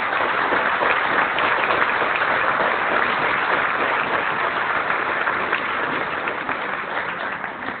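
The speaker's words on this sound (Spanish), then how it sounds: "Recibámoslo con un fuerte aplauso." Sustained audience applause welcoming a speaker at an anniversary ceremony of a national school for the blind in Mexico, steady and fairly dense, tapering slightly toward the end.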